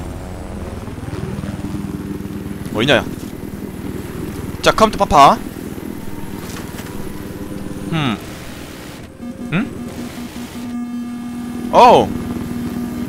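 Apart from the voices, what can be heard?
helicopter in Battlefield 4 video game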